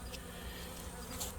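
Honey bees at a hive with only two frames, a soft, continuous buzzing hum that stays faint and steady through the short moment.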